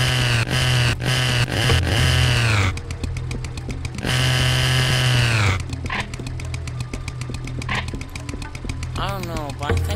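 Chainsaw weapon in the Serious Sam: The Second Encounter video game, a loud buzzing motor that revs up and down in long bursts, mixed with game effects and someone talking throughout.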